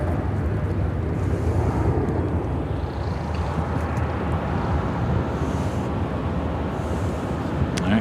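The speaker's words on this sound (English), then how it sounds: "That was Korean Air Cargo 8232 taking off to Seoul on the 777 freighter." A Korean Air Cargo Boeing 777 freighter takes off at Chicago O'Hare. The result is a continuous rumbling engine roar with wind buffeting, heard at moderate distance and fairly steady throughout.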